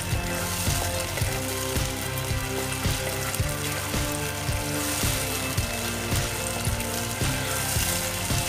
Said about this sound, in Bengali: আমি দু মিনিট মতো রান্না এটা করছি, তেল ছেড়ে এসেছে